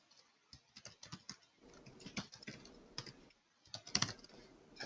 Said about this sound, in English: And I'm typing it right now.